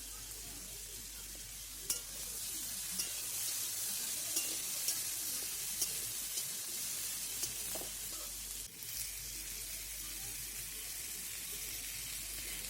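Green chillies and boiled potato frying in oil in a home kitchen pan, a steady soft sizzle running throughout with a few light clicks and stirring touches.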